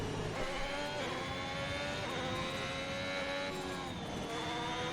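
Ferrari race car engine in a racing game, a loud close high-pitched whine rising and falling through gear changes, steady and continuous with no talk over it.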